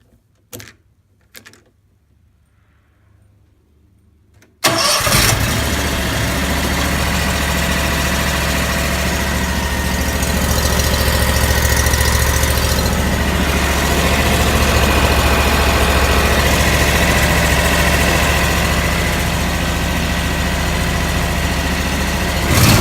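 John Deere Z920m zero-turn mower run without its air filter: a few faint clicks, then the engine cranks and catches, settling into a loud, steady, throaty idle that holds to the end.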